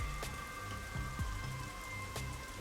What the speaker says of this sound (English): what you're hearing is the fucking rain sound